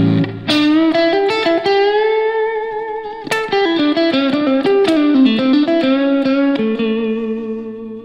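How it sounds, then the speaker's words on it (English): Classic blues licks played on an electric guitar through effects, a run of bent and picked notes in phrases with a short pause midway, loud and close with no talk. "I'm just gonna play a few like classic blues licks"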